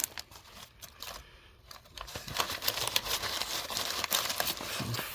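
Crinkly foam packaging rustles and crackles up close while a leather slip for a slipjoint knife is unboxed, with dense irregular scratchy bursts growing busier after a brief quieter pause.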